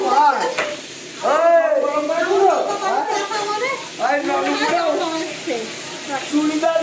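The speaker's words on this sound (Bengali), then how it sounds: "বন্ধুরা আমার ফুলকপিটা লাল লাল করে ভেজে নিয়েছি" Cauliflower fries in a wok with a steady, fairly loud sizzle and occasional stirring, heard beneath almost continuous nearby talking.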